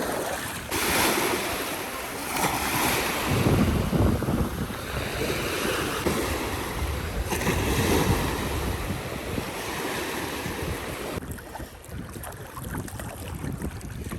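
Ocean waves on Ruwais beach in Al Dhafra, Abu Dhabi, a continuous roar of surf with heavy wind buffeting the microphone, swelling and easing before thinning near the end.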